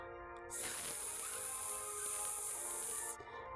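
A voice makes a long, steady hissing sound imitating a snake, lasting a few seconds with nothing else around it.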